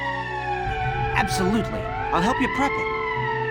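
A wailing emergency siren in the video game Valkyria Chronicles, with a rising and falling tone that keeps sounding loud and steady while a voice talks over it.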